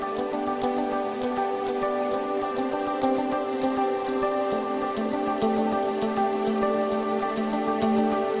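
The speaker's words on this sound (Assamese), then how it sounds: "বৰষুণো দিব হৈছে" Rain falling outside during outdoor cooking over a bamboo wood fire, a constant pattering of drops on surfaces beneath a steady tonal hum, fairly loud and uninterrupted.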